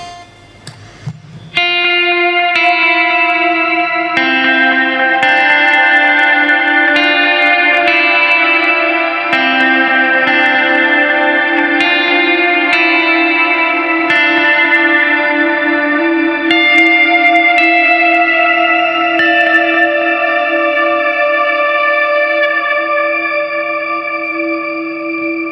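Electric guitar run through an ambient pedalboard with shimmer, heavy reverb and echo: sustained chords ring out in a thick, layered wash with high octave tones floating above, played alone and swelling steadily.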